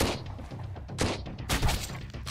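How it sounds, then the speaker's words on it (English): Enemy machine gun fire rattles in Sunkenland, several sharp, loud bursts cracking in quick succession over about two seconds. "They have a machine gun."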